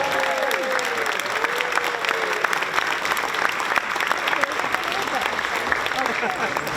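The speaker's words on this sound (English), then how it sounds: "Please give them all another round of applause." Sustained audience applause at a community awards banquet, dense steady clapping from a large crowd filling the room, without talk over it.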